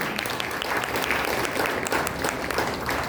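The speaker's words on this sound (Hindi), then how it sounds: "एक बार फिर से दीप्ति के लिए जोरदार तालियां।" Enthusiastic audience applause for a child performer at an Arya Samaj kids programme in Bangalore, loud, dense clapping with crisp individual claps standing out, continuous throughout without speech.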